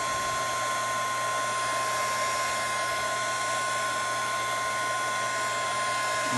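A heat gun blows with a steady, loud, even whoosh and a constant high whine, held without change throughout as it loosens the adhesive behind an LG G Flex LCD screen, with no talking.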